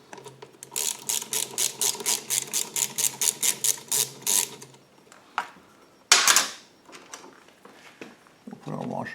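Ratchet tightening a nut onto the plastic fuel pump of a DuroMax 9500 generator, with a quick steady series of close clicks followed by a few scattered metallic knocks and clatter.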